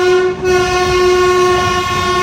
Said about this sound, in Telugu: సో ఇక్కడైతే మన ట్రైన్ స్లోగా వెళ్తుంది.